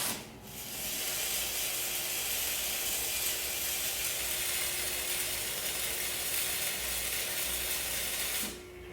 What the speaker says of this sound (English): tacking these very precisely so that they don't flex out of place, and then finish welding on the top and the bottom here